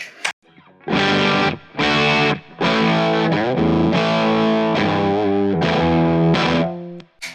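Electric guitar played through a Comfortably Plum fuzz pedal, loud and distorted, with chords ringing in several sustained bursts separated by short pauses.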